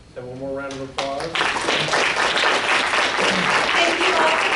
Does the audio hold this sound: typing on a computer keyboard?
no